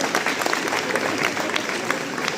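An audience at a school event bursts into sustained applause for a man named Satyadev, dense clapping filling the room at a steady level, with a faint murmur of voices underneath.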